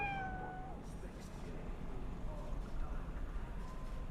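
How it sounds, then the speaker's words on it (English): A cat in the video game Cyberpunk 2077 gives a short meow, then fainter follow-up mews over a steady low ambient hum. "There's a cat around somewhere."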